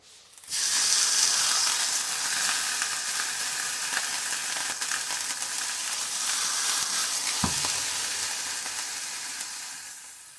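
A pork roast browns in hot oil in an Instant Pot, giving a loud, steady sizzle with no break. One dull knock cuts through the hiss partway along.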